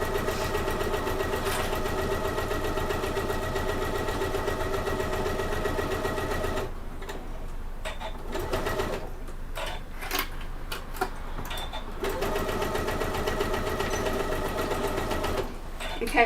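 A sewing machine stitches a fabric bag with a fast steady mechanical whir, pausing for several seconds midway with faint handling noises before running again, close and loud.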